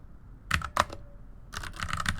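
Quick bursts of keystrokes clatter close by, two short taps followed by a longer run of typing on a keyboard.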